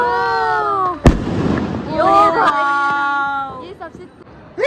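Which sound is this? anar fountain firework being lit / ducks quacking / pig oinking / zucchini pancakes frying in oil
anar fountain firework being lit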